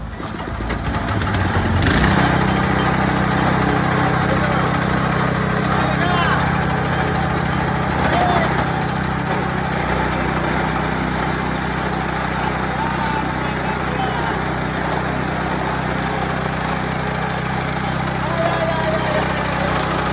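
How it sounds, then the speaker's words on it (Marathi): A 3 hp chaff cutter machine runs on a petrol engine, a loud, steady mechanical drone that holds constant from start to finish with a continuous whirring hum beneath it. "सध्या आपण पेट्रोल इंजिनवरती मशीन फिट केलेली आहे लाईन नसल्यामुळं"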